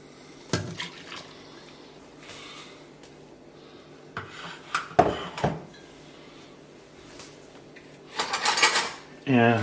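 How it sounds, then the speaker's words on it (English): A spoon stirring injera batter in a bowl, with scattered clinks and scrapes of metal against the bowl, close up, building to quicker clattering near the end, no voices. "And then we will stir this up."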